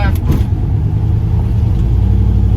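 A loud turbocharged Dodge Caravan minivan engine runs close by with a steady, rumbling drone, holding at a high rev with little change.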